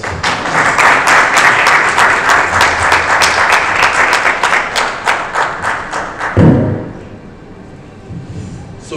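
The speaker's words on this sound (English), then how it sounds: "I think after the coffee we can give them an applause." A conference audience gives loud, dense applause for a fintech panel, a sustained crowd of clapping hands that ends abruptly with a thump, then fades into quiet room noise.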